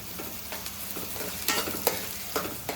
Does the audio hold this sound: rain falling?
no